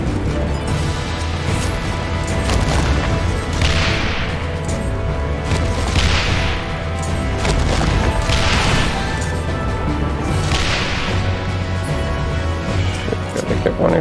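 Booming shots from a ship's cannon in Final Fantasy XIV battle repeat every couple of seconds over a steady din of game music and combat noise, with a player talking throughout.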